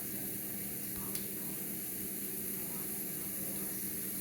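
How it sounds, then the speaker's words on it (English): Tomatoes sizzle on a hot grill with a constant, crackling hiss, fairly quiet and steady throughout, with a single small tap partway through. "Listen to that sizzle."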